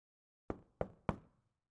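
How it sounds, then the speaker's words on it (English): Three loud, evenly spaced knocks on a front door in the video game Touchstarved, each a sharp thud with a short decay, set against otherwise silent surroundings. "A loud knock at the front door stops our conversation cold"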